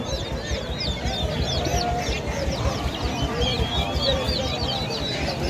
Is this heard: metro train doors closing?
no